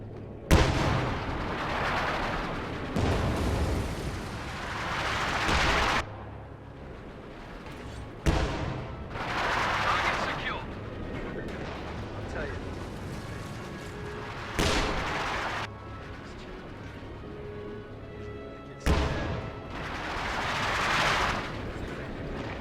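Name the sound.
artillery fire exchanged on battlefield, from a video game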